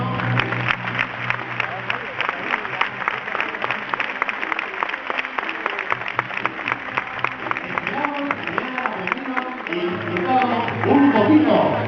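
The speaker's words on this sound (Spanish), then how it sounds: "Y por supuesto despedimos con un fuerte aplauso al equipo de entrenadores." Spectators at a dolphin show clap for the trainers: rapid, dense crowd applause running throughout, with voices and a loud public-address sound layered over it.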